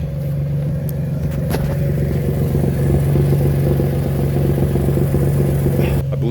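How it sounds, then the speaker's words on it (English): An Infiniti G35 with an exhaust leak idles nearby, giving a steady, low, throbbing rumble that holds even for several seconds. "my car's got a pretty decent exhaust leak"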